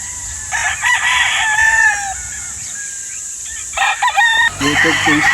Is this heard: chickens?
yes